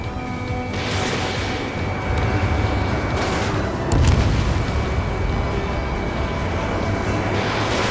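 Missile explosions and heavy blasts in the Ace Combat 7 flight combat game, a dense continuous roar of booms with a stronger detonation midway, loud throughout with no talk.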